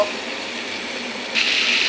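Lata, the runners of the taro plant, frying with dried fish in a pan: a steady, close sizzle that holds even, then turns brighter and louder for the last stretch as the pan is stirred.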